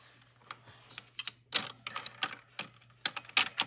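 Someone types on a Redragon mechanical keyboard with tissue stuffed under the stabilizers, producing close, muted key clacks in uneven bursts and a few heavier strokes over a faint steady hum.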